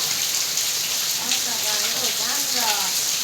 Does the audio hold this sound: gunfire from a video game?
no